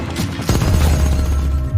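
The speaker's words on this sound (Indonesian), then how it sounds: "sebuah mobil tiba-tiba masuk keluar memberondong Carl, Shelly, dan Detlef tanpa ampun" Gunfire bursts in a film shootout as a car drives up and sprays people with bullets, a short dense rattle of loud shots with booming impacts, close and continuous.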